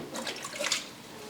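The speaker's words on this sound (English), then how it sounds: "I'm going to shake out the excess water and put them into a colander." Excess water is shaken off vegetables into a colander, giving short splashy spatters and trickles that arrive in a couple of quick bursts, close and moderately loud, before fading to a faint drip.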